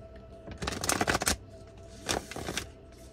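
Oracle cards shuffled by hand before a reading, two quick bursts of crisp riffling and flapping, close and clear, with no talk.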